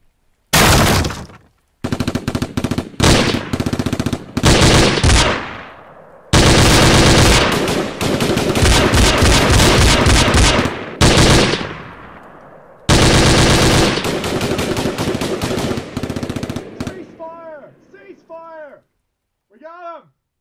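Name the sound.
gunfire sound effects in hostage scenario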